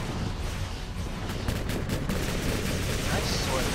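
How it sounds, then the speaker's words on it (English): Sniper cannons firing in the space strategy game Sword of the Stars, heard as a steady dense barrage of booming shots under continuous battle noise. "Just fire the sniper cannons."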